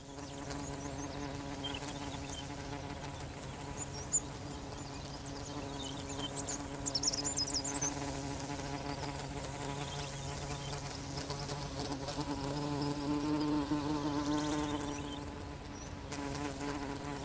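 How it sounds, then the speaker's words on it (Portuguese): Tangle-veined flies of the family Nemestrinidae in Namaqualand, South Africa, buzz steadily and close by in a continuous insect drone, with no voices present. "As moscas da família Nemestrinidae de Namaqualand só são capazes de polinizar plantas que comportam"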